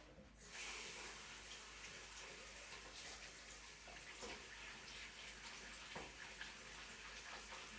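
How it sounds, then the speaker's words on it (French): Tap water runs steadily while a funnel is rinsed under it at a sink, a continuous hiss and splash with small shifts in the flow, close and alone with no talk. "je vais rincer l'entonnoir pour après."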